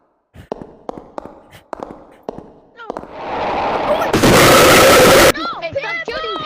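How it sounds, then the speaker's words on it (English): Gunshots in the VR horror game Scary Baboon: several sharp, evenly spaced cracks, then a long dense roar of rapid fire that stops abruptly before voices and squeaky game sounds take over. "Hey, stop shooting people, man."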